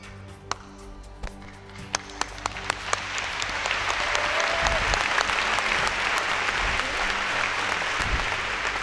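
A worship festival crowd follows a leader's clapping, starting with a few separate single claps that build into dense, loud applause from many hands, with faint voices underneath.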